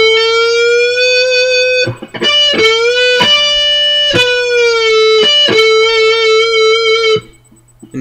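Electric guitar solo lick from a song, sustained distorted notes with smooth string bends rising and falling, several picked attacks in a flowing phrase, loud and upfront with no talking.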